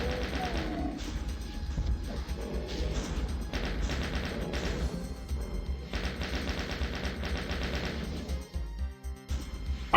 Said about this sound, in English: I want to see some powerful rocket launcher action